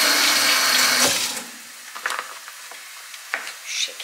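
Peeled garlic cloves are rinsed in water, with running water splashing loudly at first, then quieter sloshing and small splashes close by.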